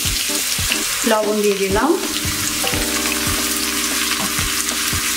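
Sliced onions fry in hot oil for achari khichuri, a steady close sizzle that runs throughout while someone talks over it.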